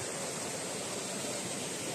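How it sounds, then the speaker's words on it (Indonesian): Steady rushing of stream water flowing continuously below the Coban Rondo waterfall in Pujon, Malang, East Java, a broad even roar like water tumbling below a waterfall, close by and unbroken. "Ini air dari air terjun sana itu ini yang bagian bawahnya."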